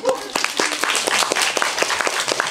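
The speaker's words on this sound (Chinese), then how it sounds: "掌声好不好？" An audience at a music talk breaks into applause, a dense crowd of hand claps heard close and steady throughout.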